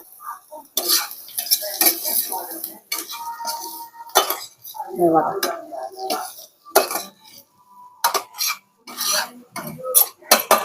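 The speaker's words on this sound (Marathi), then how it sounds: "अशा प्रकारे आपण ह्याला एकजीव करून घेऊया." Bitter gourd being stirred and mixed with grated coconut and peanuts in a pan, a run of scraping, clinking spoon-on-pan strokes in irregular bursts, fairly close and clear with no talking.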